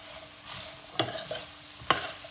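Thai chicken curry with vegetables being stirred in a pan, a low steady sizzle broken by two sharp spatula scrapes against the metal, close and clear.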